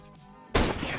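A gunshot bursts out of near silence in CS:GO, loud and close, trailing off into a short ringing tail.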